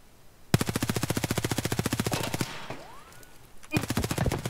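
Automatic gunfire in the shooter Escape From Tarkov: a long, rapid burst of close, loud shots, a short lull, then another fast burst.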